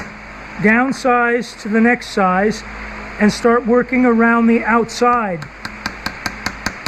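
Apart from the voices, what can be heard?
light hammer taps spreading nickel silver knife handle pin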